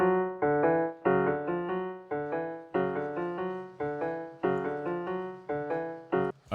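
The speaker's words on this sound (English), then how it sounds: "Piano soft layer, and it sounds like this." Soft-layer piano sample from Expand playing a repeated rhythmic pattern of short chords, each struck and decaying quickly, moderately quiet and alone without any speech.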